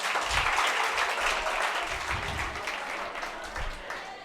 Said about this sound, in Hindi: अरे ताली बजाओ कंजूसो।